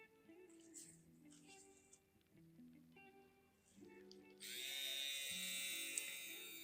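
A Dragonhawk X8 tattoo machine fitted with a 5 round liner runs at about 8,300 RPM, giving a steady, close electric whirr that steps up louder and brighter partway through, over a faint background hum.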